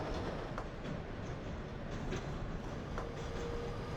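A New York City subway R-160 train in the OpenBVE simulator, late at night between 57 St-7th Avenue and Brighton Beach, rumbles steadily with faint wheel clicks and brief squeals, continuous and fairly close, with no talking.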